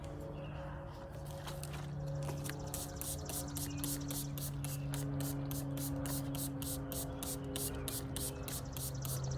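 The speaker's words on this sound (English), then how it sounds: "We'll go ahead and spray it with a light neem oil" A rapid series of short, hissing spray bursts repeats steadily over a low motor hum, fairly close, as a light neem oil solution is sprayed on an azalea bush.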